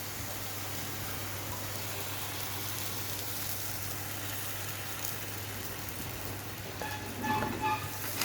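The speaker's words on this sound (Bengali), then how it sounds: "এবার আমার চিকেনটা সেদ্ধ হচ্ছে।" Chicken boiling in a pot of water: a steady, faint, hiss-like bubbling and simmer with a low hum underneath, ending in a few soft clinks.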